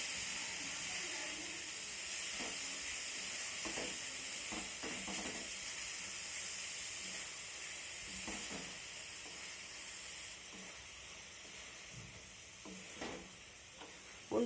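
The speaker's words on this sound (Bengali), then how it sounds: "এলাচটা দেওয়ার পর আমি আবারও অনবরত নাড়াচাড়া করতে থাকবো।" Coconut sandesh mixture with cardamom stirred continuously in a pan over the flame, giving a steady soft sizzle and hiss with faint scraping strokes throughout, no voices.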